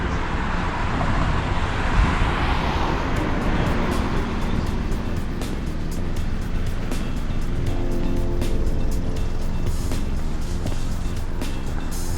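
Cars drive along a street in Stratford-upon-Avon, making a steady broadband traffic roar that swells slightly as vehicles pass close by, with faint clicks and rattles and no talk.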